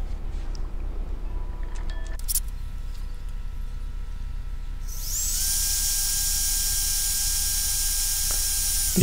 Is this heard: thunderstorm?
no